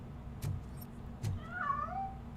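A cat meows in RoboCop: Rogue City, a soft plaintive cry with falling pitch heard once near the end, set against a low ambient hum and two faint thumps.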